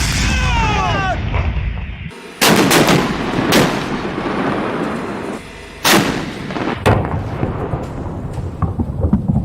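Heavy artillery and gunfire from a military attack boom loudly in repeated blasts, with sharp broadband bursts near 2.5, 3.5 and 6 seconds over a continuous rumbling roar; a voice is heard briefly at the start.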